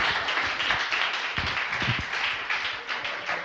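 Audience at a coding bootcamp demo day applauding the presented products; a moderate, dense patter of hand claps from a crowd, steady for a few seconds without talk.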